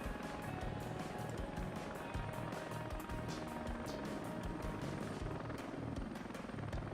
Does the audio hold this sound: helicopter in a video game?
yes